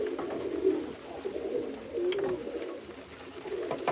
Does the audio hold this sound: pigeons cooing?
yes